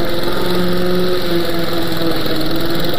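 A lawn mower engine runs loud and close during a mow, its steady buzzing drone carrying a fast throbbing pulse, and nothing else is heard over it.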